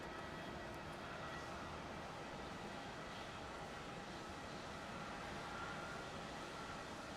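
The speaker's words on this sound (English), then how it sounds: "On to 7 departing, we have Qantas 683 going off to Adelaide." Qantas flight 683 departing Melbourne Airport for Adelaide gives a distant, steady broadband jet roar that holds evenly throughout without pause.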